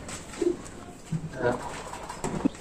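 Pigeons in a loft, pecking at grit, give a few soft, short coos close by over a low, noisy background, with no clear speech.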